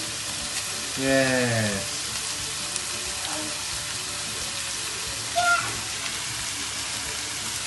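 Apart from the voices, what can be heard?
rice frying and sizzling in a pan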